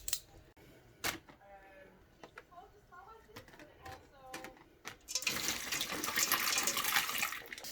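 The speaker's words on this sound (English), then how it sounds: "And then top it up with just enough water to cover it" Tap water runs steadily into a container of chicken brine, a broad continuous rush swelling up after some brief knocks and handling sounds, fairly close and loud.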